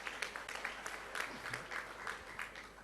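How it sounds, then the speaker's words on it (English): An audience at a plenary conference session gives a brief scattered round of applause. The clapping is steady, fairly soft and somewhat distant, with no speech over it. "I thought I deserve a round of applause for that too."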